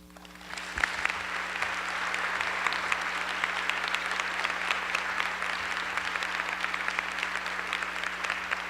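An audience at a welcome address bursts into applause after a single sharp knock, then keeps up a dense, steady clapping that stays full and even throughout, with a faint low hum underneath.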